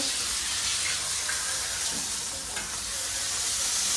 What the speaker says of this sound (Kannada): Fish fry on process. ಡರ್ಲಿಂಗ್ಸ್, fish fry.